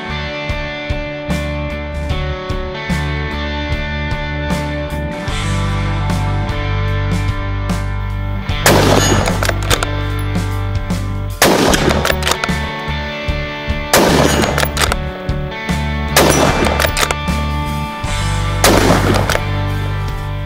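A Sauer S100 Ceratech rifle in .223 being fired during accuracy testing, several loud, sharp shots at irregular intervals over a continuous backdrop of loud tonal music.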